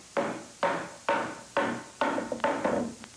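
A rubber mallet knocks at an old wooden stair tread to work it loose: six sharp, evenly spaced thuds, close and loud, the last two coming slightly quicker.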